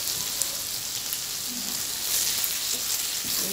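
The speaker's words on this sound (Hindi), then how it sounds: "भिंडी को उलटते पलटते रहेंगे" Stuffed okra (bhindi) sizzles and fries in a pan while being turned, a soft continuous crackling hiss with light scraping stirs, fairly quiet and steady throughout.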